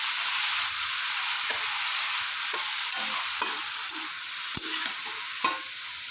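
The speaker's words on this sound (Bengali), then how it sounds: "দেখো কড়াইয়ে জাস্ট একটুখানি নেড়েছি, তাই দেখো কতটা কমে গিয়েছে।" Fresh young spinach stirred in a hot wok, a steady close sizzle running throughout with scattered soft scraping clicks and taps from the stirring, no voices.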